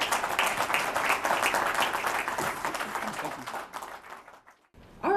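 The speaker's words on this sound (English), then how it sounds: "Please give Rodney a round of applause." Audience applause for Rodney at a Herndon Metro station presentation, a dense patter of many clapping hands that holds steady for several seconds, then thins and fades away before a voice begins at the very end.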